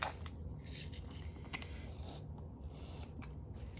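Paper for a coffee journal is trimmed with scissors, about three quarters of an inch off. Quiet, irregular snips and rustles sound close by under a steady low hum, with no talk.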